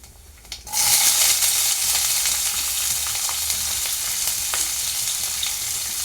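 Mustard seeds, cumin, chana dal, onion, green chillies and curry leaves dropped into hot oil, bursting into a loud, steady close-up sizzle after a short quiet start, with a few stirring clicks.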